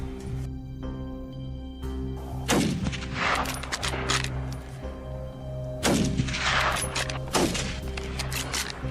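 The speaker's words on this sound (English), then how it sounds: "The most commonly used weapon is the Remington 700 rifle, renowned for its high accuracy and superior firepower" Rifle shots from a Remington 700 during a wild hog hunt, several sharp loud cracks spaced a few seconds apart over a steady low background hum.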